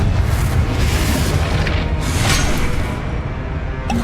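Confringo fire-blast spell explosions in Hogwarts Legacy burst out as a heavy booming roar, loud and dense throughout with several sharper cracking impacts in quick succession.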